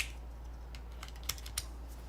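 A few soft, scattered keystrokes on a Syrin TKL mechanical keyboard, quiet and close, with a brief gap between clicks over a low steady hum.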